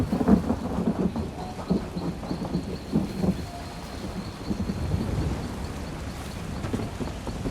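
A video game thunderstorm with steady heavy rain and a rolling rumble of thunder through it, continuous and fairly loud, with patter and thumps and no talking.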